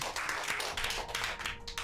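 A group of children clapping together in a rapid, dense burst of applause, fairly quiet and lasting under two seconds.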